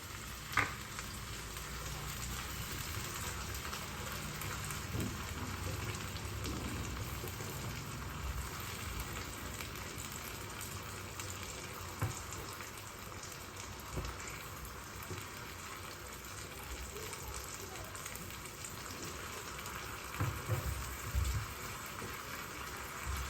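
Ground tomato puree sizzling and frying in a pan for red sauce pasta, a steady broad hiss with occasional stirring scrapes, close and continuous throughout.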